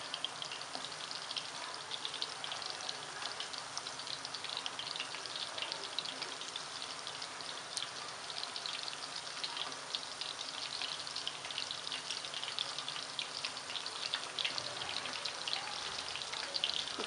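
Kofta balls sizzle steadily in a pan of hot oil for an achari kofta curry, a dense, even crackle that stays close and unchanging throughout with no voices over it.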